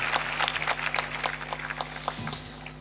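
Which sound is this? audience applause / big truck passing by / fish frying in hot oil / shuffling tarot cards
audience applause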